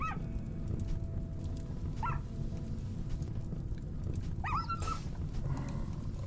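In the video game RimWorld, a dog whimpers while burning: three short, rising whines spaced a couple of seconds apart over a steady low rumble of fire.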